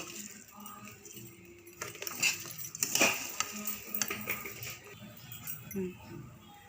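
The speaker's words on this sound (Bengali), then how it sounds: "এবার নাড়াচাড়া করে নেব চাল দিয়ে" Rice being stirred in a pan while frying for pulao, with soft metallic scrapes and clinks of a utensil against the pan, fairly quiet and intermittent, and some faint background voices.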